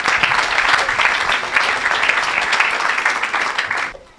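A church congregation breaks into steady, loud applause that fills the room evenly and fades out at the very end.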